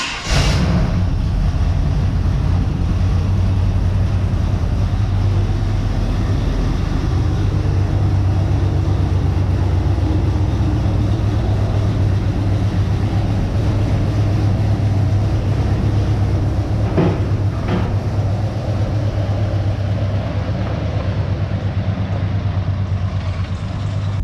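A square body truck recently fitted with a new 700R4 torque converter fires up, and its engine runs loud and steady at a deep low rumble that continues without a break. There is a brief bump near the start and a few faint clicks later.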